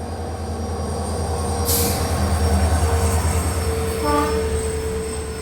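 A diesel locomotive-hauled express train rolls past steadily at a railway station with a low engine drone, rumbling wheels and a brief squeal, loud and close throughout.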